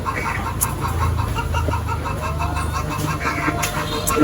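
Chickens in a layer farm clucking continuously, many birds at once in a dense steady chatter with occasional sharper calls, close and loud.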